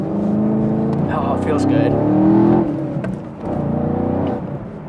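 Chevrolet Camaro V8 engine humming with a steady, close droning tone while cornering on a track, dipping briefly then rising again, with someone talking over it.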